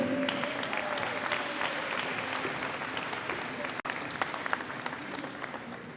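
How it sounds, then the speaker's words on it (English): A crowd applauds the North team at a handball youth tournament opening ceremony, dense sustained clapping with a faint voice underneath, steady and moderately distant. "Round of applause one more time for the North team"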